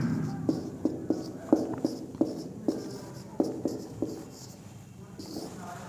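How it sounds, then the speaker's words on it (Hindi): Chalk or marker tapping and scraping on a classroom board, a dozen-odd sharp strokes in uneven rhythm, fairly close, with faint room noise in between. "यहाँ पे मैं लिख देता हूँ"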